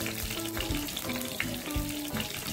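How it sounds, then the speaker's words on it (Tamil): Fenugreek, mustard seeds and garlic fry in hot oil for a Tamil chickpea kuzhambu, giving a steady close sizzle broken by small crackles and the scrape of stirring. "இது ரெண்டும் நல்லா பொரிஞ்சதும் பூண்டு சேர்த்துக்கலாம்."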